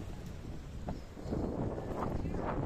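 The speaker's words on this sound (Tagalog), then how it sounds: "Grabe, ang hangin, ang lakas ng hangin." Gusty wind buffeting the microphone on an island beach, a low rumbling roar that grows stronger partway through, with faint voices mixed in.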